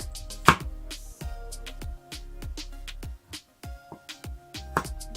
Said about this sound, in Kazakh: Чесногубузду майдалап туурап алабыз.